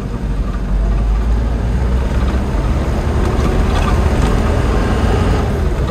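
An Isuzu Elf NHR 55 truck engine accelerating while driving, a steady loud low rumble with wind and road noise throughout, close to the microphone and without talk.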